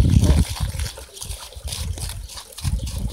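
Water trickles and dribbles onto bokashi fertilizer to moisten it into a small clump before feeding an orchid, with uneven wet pouring and splashing sounds close to the microphone.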